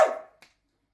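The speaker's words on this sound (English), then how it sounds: "That was my dog." A single close, sharp dog bark followed by a short fainter yelp, then silence.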